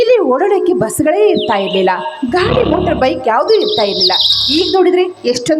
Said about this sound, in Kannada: ಹಕ್ಕಿಗಳ ಚಿಲಿಪಿಲಿ ಗಾಯನ